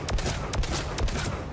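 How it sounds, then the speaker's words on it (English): Three evenly spaced single shots from the Phalanx pistol firing semi-automatically in Mass Effect 3, sharp and close, over a low rumbling background. "let's try the phalanx out since I'm here. Also semi-auto fire."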